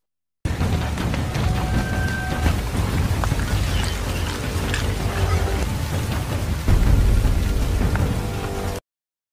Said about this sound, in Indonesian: Hujan deras yang mengguyur markas pasukan Burma, membuat Rambo lebih mudah bergerak